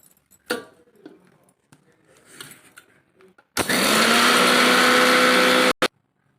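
Mixer grinder whirring loudly for about two seconds as it grinds salt into powder for green pepper pickle, after some faint clinks and handling sounds, then a short final burst.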